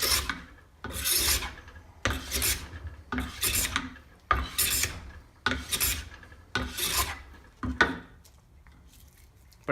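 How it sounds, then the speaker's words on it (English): A steel scraper made from an old Stanley hand plane rasps across wood in about seven steady strokes, each raising thin shavings with a dry, gritty scrape, close up and with no talk. "It's actually making shavings, not just sawdust from scratching over the surface."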